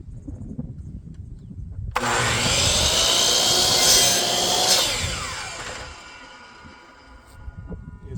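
Wood stock for a knife handle is evened out with a tool: a loud, steady abrasive grinding starts abruptly, holds for about five seconds close by, then tapers off into quiet room noise.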